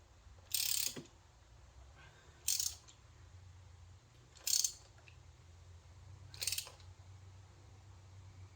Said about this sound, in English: just literally get the thread going on the spark plug and then wait until it feels like it's going tight